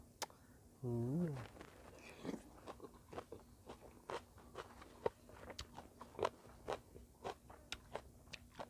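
Spicy Thai salad of young gourd shoots with bitter gourd is eaten up close, with a steady series of sharp crunchy bites and chewing. A brief voiced sound comes near the start.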